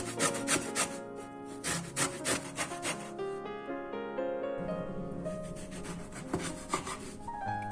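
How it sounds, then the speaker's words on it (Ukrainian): Lemon zest being grated for a soft Easter bread with raisins, heard as quiet, rhythmic rasping strokes repeated close up, with a brief pause midway before the scraping resumes. "З одного лимона натираємо цедру та видавлюємо сік."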